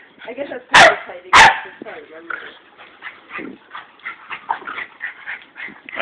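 Dogs playing in a yard give two sharp, loud barks early on, followed by a string of yips and whimpers under steady talking.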